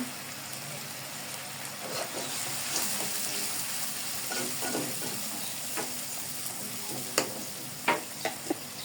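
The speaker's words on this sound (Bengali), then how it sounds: "এরপর আমি মশলাটা ভালো করে বসিয়ে নেব" Spice paste with chilli powder frying in a pan for a tangra fish dish, giving a steady soft sizzle with a few scattered stirring scrapes and taps that become sharper near the end.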